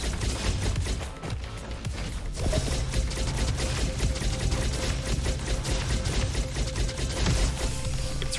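Arm cannon firing in the shooter Roboquest, a dense mechanical rattle of rapid shots and clanks running continuously under game music, loud and near.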